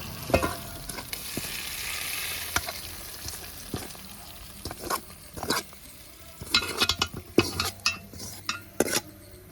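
Masala being poured over chicken and stirred in a pan for a Kerala toddy-shop style curry, with a quiet sizzle under repeated scraping and clanking of a spoon against the pan, close with no talk.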